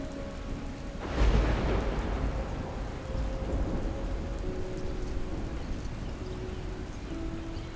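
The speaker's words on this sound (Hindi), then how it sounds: "बाहर जोर की बारिश हो रही है, आप भीग जाएंगे।" Heavy rain pouring outside, a dense steady hiss with a sudden loud thunderclap early on that rolls off into continuous downpour, with no voices.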